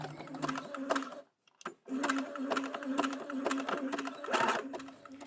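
Sewing machine stitching fold over elastic onto handmade knickers, rapid rhythmic needle bursts with a brief pause partway, close and clear with faint background.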